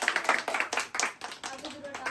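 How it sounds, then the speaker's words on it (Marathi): Audience clapping hands during a chili game at a lively home gathering, a short burst of uneven claps at moderate distance, with voices talking over it. "चला प्रेक्षक टाळ्या वाजवा जरा टाळ्या"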